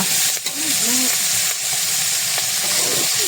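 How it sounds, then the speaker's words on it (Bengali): A ground paste of ginger, garlic, onion and cumin fries in a pan, a loud, close, continuous hissing sizzle with a bubbling, steamy texture that holds steady throughout. "এই যে মশলা, এখন মশলা ভুনে নেওয়া হচ্ছে রান্নার জন্য।"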